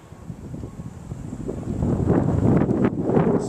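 Blizzard wind gusting in Buffalo, a steady rushing roar with drifting snow that swells and grows louder after the first second and a half.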